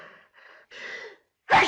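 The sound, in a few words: sneeze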